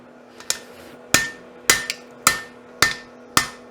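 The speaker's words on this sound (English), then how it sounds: "So we were saying this is a nose hammer?" A blacksmith's nose hammer strikes metal in six sharp, ringing blows at a steady, unhurried pace, each hit loud and close with a brief metallic ring fading before the next.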